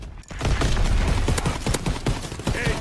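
Dense, rapid shotgun and gunfire blasts crackle in a Sledgehammer-made shooter game, a loud, continuous fusillade of overlapping shots with scattered sharper reports.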